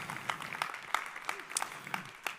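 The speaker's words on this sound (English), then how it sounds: "Give yourselves a round of applause." Audience applause in a conference hall, a steady wash of many hands clapping with sharp individual claps standing out, moderately loud throughout.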